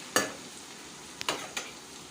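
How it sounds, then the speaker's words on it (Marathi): Finely chopped onion is sautéed in a pan over a medium-to-low flame until reddish. A soft, constant sizzle is broken by three or four quick, sharp spatula scrapes as it is stirred. "हा कांदासुद्धा छान लालसर होईपर्यंत परतून घ्यायचा आहे"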